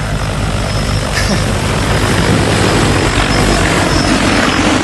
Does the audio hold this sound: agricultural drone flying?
yes